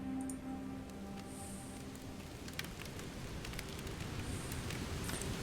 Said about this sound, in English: The flames shudder and wobble as they begin to spread to the logs, which crackle and hiss at the heat